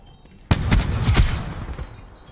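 A rapid burst of pistol gunfire from Call of Duty multiplayer erupts suddenly and stays loud and dense for about a second and a half, then trails off into quieter game ambience.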